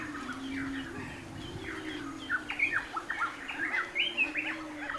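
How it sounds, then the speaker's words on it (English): Many birds chirp and call in a rainforest mangrove, bright tweets and squawks overlapping near and far over a steady low hum, growing busier in the second half. "Mangrove's dense branches also provide habitat for many birds."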